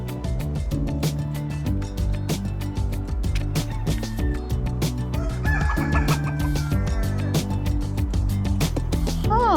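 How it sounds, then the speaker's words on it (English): A rooster crows outdoors among tulips in Porto, its calls rising over a busy background of clucking fowl and other birds, with a voice briefly heard nearby. "There's literally a rooster crowing right now."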